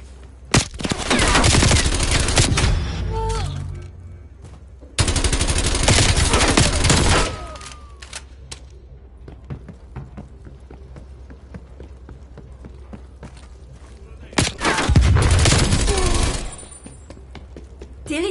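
Video game gunfight with loud, dense bursts of automatic gunfire in three separate volleys, each lasting a couple of seconds, separated by quieter stretches with scattered shots and ambient noise.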